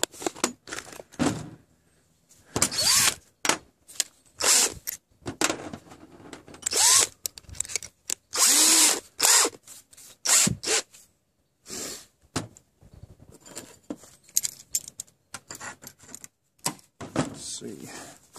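Drill bit chamfering a hole in steel cut from an old Nicholson file, freehand; short high whining bursts of drilling come and go among a man's speech.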